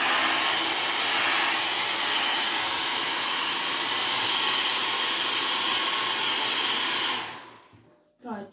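A hair dryer blows steadily and loudly on a freshly glued piece of furniture, a continuous airy roar that cuts off near the end, leaving a short faint rustle.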